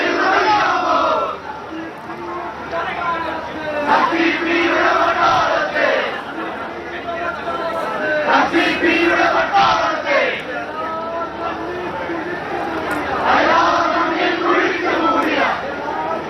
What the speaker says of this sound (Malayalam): SRCP-യുടെ പട്ടാളത്തെ വെല്ലുവിളിച്ച കഥകൾ ഇങ്ങനെ വൈകാരികമായി മുദ്രാവാക്യങ്ങളായി പ്രകമ്പനം കൊള്ളുകയാണിപ്പോൾ